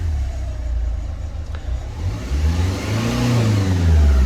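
A Renault Kangoo engine revs up as the accelerator pedal is pressed, its pitch climbing in a couple of rising sweeps before settling, loud and close with no talking.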